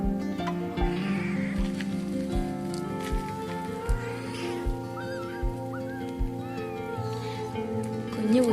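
A hungry kitten meows repeatedly in short, high rising cries, close and fairly loud, over a low rhythmic thumping background.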